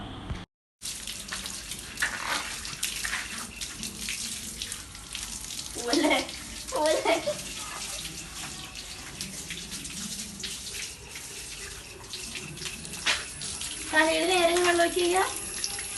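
Water runs and splashes steadily into a bottle, with a few brief gurgles and sloshing bursts as it is swirled and mixed with shampoo for bathing a pit bull.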